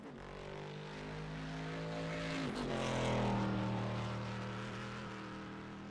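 A GT race car at Interlagos, driven flat out, sends out a loud sustained engine drone whose pitch dips sharply as it changes gear, then climbs again and swells toward its loudest point.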